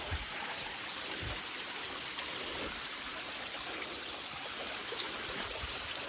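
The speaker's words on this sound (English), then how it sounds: "there's another natural spring that comes out of the ground right up there" A natural spring in Hidden Canyon near Amed, Bali, flows and trickles in a steady, continuous wash of water. The sound is close and evenly loud throughout, with no talk.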